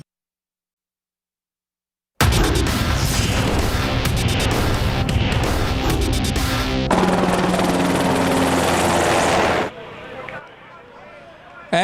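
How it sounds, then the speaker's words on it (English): Firefighting tanker helicopter flying over a wildfire near a football training camp, a dense loud rotor and engine roar with heavy booming texture, steady for most of the stretch before dropping away, with voices mixed in. "prompting firefighters to break out the tanker helicopters"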